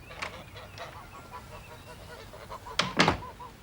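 A grey-headed goose gives a few short honks, moderately close, ending in a louder burst of honking or flapping.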